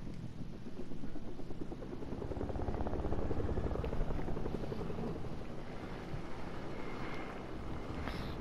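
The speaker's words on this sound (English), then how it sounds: "And there's a helicopter." A helicopter in the Fortnite video game flies nearby, giving a steady rotor chop with wind-like rushing noise for several seconds and no talking.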